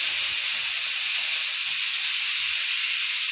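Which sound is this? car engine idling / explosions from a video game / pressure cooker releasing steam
pressure cooker releasing steam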